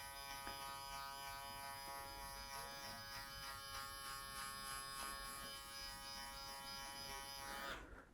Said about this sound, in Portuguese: Estou alargando e de uma certa forma polindo aquilo que eu já fiz com o meu Clipper Over Comb, minha máquina sobre o pente